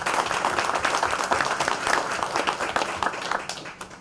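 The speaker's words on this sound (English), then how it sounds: "could you give him a round of applause" An audience at a city council meeting applauds steadily throughout, a dense, fairly loud wash of clapping that fades slightly toward the end.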